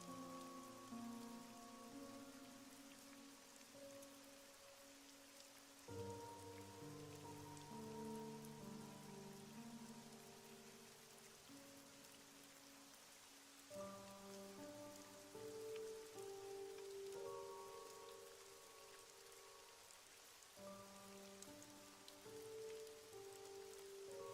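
Rain ambience plays very faintly as a steady patter under soft, sustained tonal chords that change every few seconds, with no voices.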